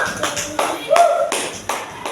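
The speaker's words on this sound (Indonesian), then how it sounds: "kita berikan tepuk tangan untuk kelompok 2." A classroom of students claps for a discussion group in a short, evenly spaced rhythmic pattern, with each sharp burst of claps distinct and fairly close.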